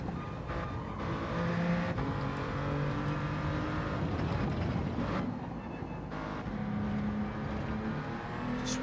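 A race car engine in Gran Turismo climbs in pitch and drops at each early upshift, repeating several times over a steady loud roar with tyre and road noise.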